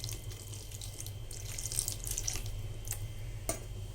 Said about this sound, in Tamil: இந்த தண்ணியை இதிலே விட்டுடலாம்.